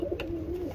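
A pigeon coos softly and briefly in a loft of highflying pigeons, including black-eyed Iraqi tipplers, a single low, faint call without anyone talking.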